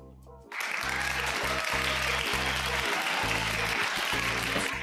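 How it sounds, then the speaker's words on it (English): An audience claps for a guest speaker, a retired sergeant major, with sustained applause starting sharply and continuing under a steady rhythmic thumping music beat. "I've never had the hand clap like that before"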